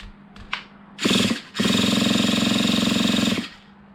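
A brand-new Traxxas T-Maxx Classic RC truck's nitro engine is turned over with its fuel drained: a brief buzzing burst, a short pause, then a steady loud mechanical whir for about two seconds before cutting off.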